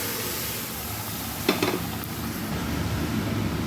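Mung dal poured into a hot tempering of fried cumin and green chilli, giving a steady close sizzle with a brief louder burst as it hits the pan, then continuing hiss.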